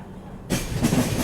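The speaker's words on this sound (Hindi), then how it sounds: "चलो देखो सामने अभी अपनी ट्रेन निकल रही है मडगांव से।" The Konkan Kanya Express pulls out of Madgaon station. After a short quiet stretch, a sudden close rumble and hiss of moving rail cars swells in.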